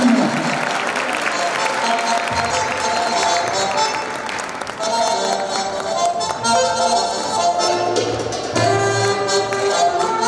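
An audience applauds at an evening gathering in Bayrampaşa honouring wrestlers. Dense clapping and crowd noise go on throughout, loud and close.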